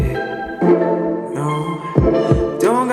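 Mellotron pluck notes in a short melodic phrase, each attack trailing into echoing delay repeats and a wash of Waves R-Verb reverb; full and upfront, no voices.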